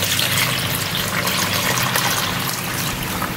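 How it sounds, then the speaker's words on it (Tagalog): Water pours steadily into a cooking pan while preparing fried chicken, a continuous close gushing splash that holds at an even level throughout, with no talking. "Ilagay na natin yung tubig natin."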